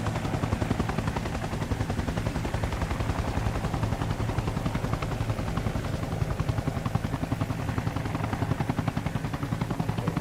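Helicopters in a video game battle, a loud, steady, rapid rotor chop filling the whole stretch, with faint gunfire mixed in.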